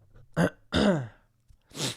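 Someone with allergies clears their throat in a few short, rough bursts close to the microphone, with brief pauses between them and no talking.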